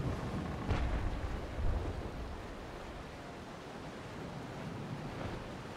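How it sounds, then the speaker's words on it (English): Ocean water and surging waves in the Naval Action sailing game form a steady, full roar of surf with two slightly louder swells early on, with no voices. "Actually, the water sounds very good as well."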